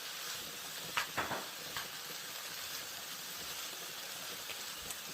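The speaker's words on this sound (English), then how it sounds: "we're going to saute this until the onions and the kale is nice and wilted" Onions and kale sauté in a pan with a soft, steady sizzle and hiss, low and close, with a few faint clinks of a utensil stirring the vegetables.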